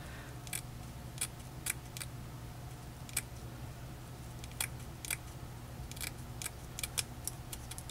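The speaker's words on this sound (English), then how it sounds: "Just take your 3/8 inch ribbon and just cut the side off of it." Scissors cutting along the side of 3/8 inch ribbon in a quiet room, a series of crisp, close snips coming in irregular bursts, some in quick pairs, over a low steady hum.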